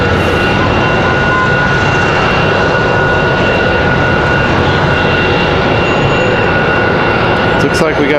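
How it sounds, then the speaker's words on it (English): An Embraer E175 jet taxis and repositions at Raleigh-Durham airport, its steady, loud engine roar and whine holding broadband and close for the whole stretch, with voices talking faintly beneath. "And that E175 changing positions back here."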